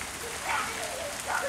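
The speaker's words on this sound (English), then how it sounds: "the rain's really pouring down." Heavy rain pours down in a windy storm on Galveston Island, a dense, steady hiss that swells slightly in places, with no one speaking.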